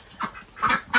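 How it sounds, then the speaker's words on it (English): Ducks give a few short nasal quacks close by, three quick honking calls in about a second with no talk over them. "Happy ducks"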